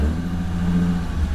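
A brief, close engine drone from a modified 2006 Infiniti G35 sedan with a six-speed manual, holding a steady low hum with strong low harmonics.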